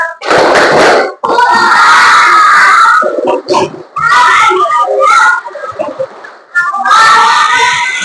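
Children chant loudly in bursts with rhythmic clapping between phrases, lively and close, with pauses between the shouted segments.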